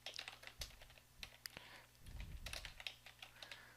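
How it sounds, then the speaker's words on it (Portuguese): A Git command is typed on a computer keyboard: soft, uneven clusters of key clicks with brief pauses, very quiet and close, with no voices. "deixa eu digitar o comando aqui"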